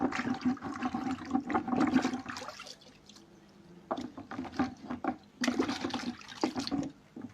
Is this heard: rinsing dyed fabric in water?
yes